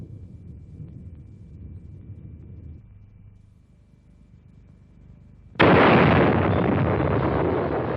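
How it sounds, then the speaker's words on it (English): A massive nuclear bomb explosion equal to more than 50 million tons of TNT, a Cold War test: a low rumble first, then a sudden loud, broad roaring blast that sustains and slowly fades. "The explosion was the equivalent of more than 50 million tons of TNT"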